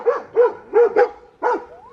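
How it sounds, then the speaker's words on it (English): A dog barks five times in a quick, uneven series, close and fairly loud, with short yipping tones and brief gaps between barks. "Yes, a doggy."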